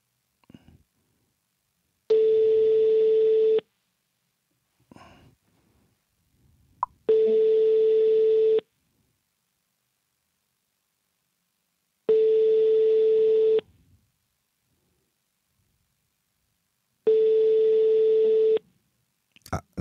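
Four evenly spaced ringback tones sound while a telephone call is placed to call someone back, each steady tone lasting about a second and a half, with quiet gaps and faint clicks between them.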